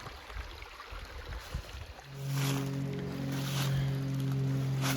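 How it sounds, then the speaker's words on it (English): Twin-engine plane passing over woods, a faint steady drone with a low harmonic hum that sets in about two seconds in and holds, with quiet outdoor ambience before it. "One of the rare times a plane flies over."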